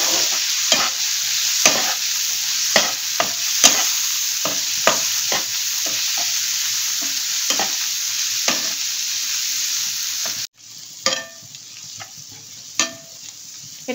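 A spiced mixture with red chilli powder and chaat masala is stirred and fried in a pan: repeated sharp scraping strokes of a utensil at irregular intervals over a constant close sizzle, with no voices.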